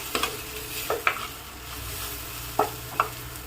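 Cooked bottle gourd pieces stirred in a hot pan with a ladle, several sharp scraping knocks at irregular intervals over a soft, faint sizzle, no voices.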